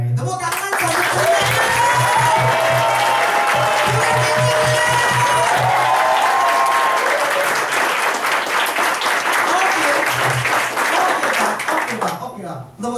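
Audience applause at an office seminar, loud sustained clapping from a room full of people with cheering mixed in, and a voice with music-like tones over the top early on before the clapping tails off.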